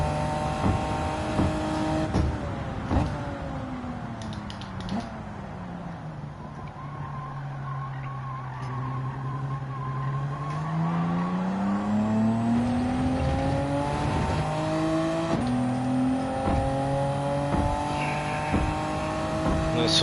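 Twin-turbo GTO engine in the racing game Gran Turismo 7 on the Tokyo circuit, a loud, close, sustained roar that drops as the car brakes, then climbs steadily in pitch through the gears, with repeated shifts and revs across the run.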